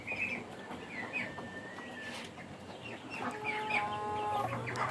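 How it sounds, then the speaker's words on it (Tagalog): Backyard poultry, pet ducks being let out of their cage on a small farm, call and cluck in short repeated bursts close by, with further birds chattering in the background throughout. "Palalabasin natin yung mga alaga natin na itik mga kaibigan."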